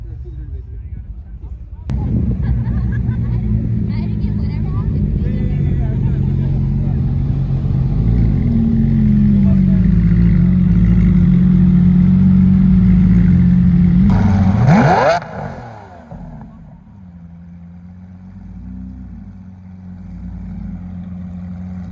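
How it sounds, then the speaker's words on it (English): Two Ferrari F50s roll into an event parking lot, their engines droning loudly and close, then revving sharply before dropping back to a lower idle rumble. "Two F50s rolling in to the coil event parking lot."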